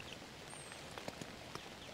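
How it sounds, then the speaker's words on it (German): Rain falls on a tent during a bicycle camping trip, a soft continuous patter with a few louder individual drops tapping nearby, quiet and without voices. "Wie ihr hört, es regnet."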